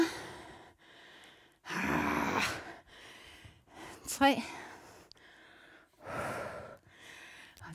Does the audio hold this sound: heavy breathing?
yes